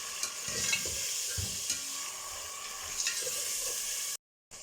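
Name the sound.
tomatoes and green chilies frying while stirred in a pot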